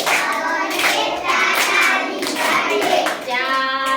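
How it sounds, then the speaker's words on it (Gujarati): Children in a first-grade classroom clap their hands during a counting song, the claps a few seconds long and mixed with young voices that sing and chant over them. "કેતા તાળી પાડીએ."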